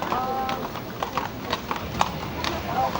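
Horse hooves clip-clop in a steady, even rhythm on a hard surface, moderately close, with faint background hum and a few small squeaks.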